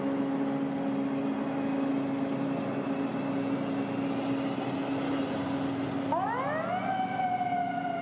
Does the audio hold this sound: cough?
no